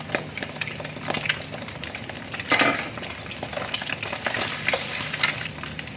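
Carrots and chili stir-frying with garlic in a pan, a steady sizzle with scraping and stirring clatter of a utensil against the pan, one sharper clank midway, and no talking.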